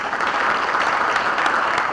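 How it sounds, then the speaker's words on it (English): An audience at a State of Education community event claps in a warm, steady round of applause, many hands blending into continuous even clatter. "Please give them a warm round of applause."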